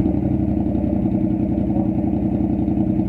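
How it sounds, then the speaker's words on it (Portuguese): A Yamaha MT motorcycle with a new exhaust tip runs close by with a steady, rhythmic low engine rumble and a pulsing exhaust note, heard on its own with no voices. "Dá umas aceleradas aí pra sentir o barulho dela."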